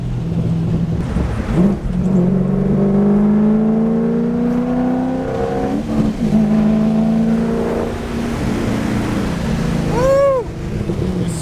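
A Corvette C5 V8 with long-tube headers, an X-pipe and no mufflers revs loudly and aggressively with a deep, growling straight-pipe exhaust, rising and falling through several throttle blips, close by.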